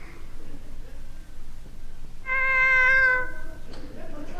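A cat in an old-time British radio comedy gives one clear, drawn-out meow near the middle, close and fairly loud over a quiet background.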